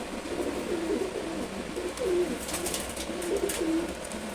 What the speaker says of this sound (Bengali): 2 মাস 10 দিনের বাচ্চা, সিলভার গোর্রা কবুতরের বাচ্চা।